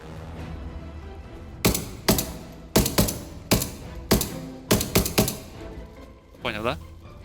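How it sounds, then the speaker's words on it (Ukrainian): Gunfire in the video game Arma Reforger during a team-versus-team match: about nine sharp shots in close pairs ring out loud and near over a quiet background, with a brief swooping tone near the end and people talking over voice chat. "зараз я постріляю"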